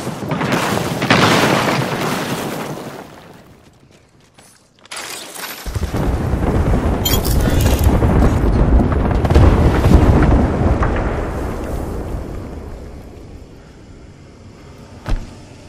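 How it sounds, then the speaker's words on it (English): Airstrike explosions in a shooter video game: a long, loud rumbling blast that fades, a brief lull, then a second heavy roaring detonation that trails off, ending with a short sharp crack. "There is an airstrike on our position."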